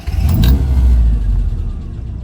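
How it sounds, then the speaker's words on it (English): A 1991 Rover Mini City-E 1000 with a 1000 cc engine starts up and settles into a loud, close, steady idle rumble with a brief burst of revving at the start. "What I'll do now is start up the engine"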